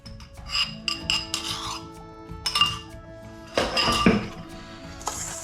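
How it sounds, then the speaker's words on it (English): A spoon clinks and scrapes against a bowl in repeated bursts as crushed Maltesers are mixed with melted butter for a no-bake cheesecake base. "And give that a mix together until we get that wet sand appearance."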